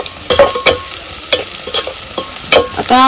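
Mutton rubbed with turmeric and salt is stirred into fried onions in a pot, loud rhythmic scraping strokes over a steady sizzle, close by with no voices.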